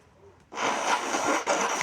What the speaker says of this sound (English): Sorry I'm blowing my nose into your video.